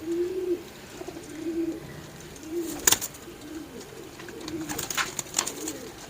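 Pigeons cooing in a loft, soft low repeated coos in short phrases at a moderate distance, with a brief sharp clatter partway through and faint rustling and chirps in the background.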